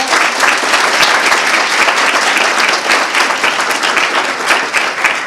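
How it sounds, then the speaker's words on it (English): Loud, dense audience applause at a school speech contest, a continuous wash of many hands clapping for about five seconds, tapering slightly at the end. "Let's give them all one more round of applause."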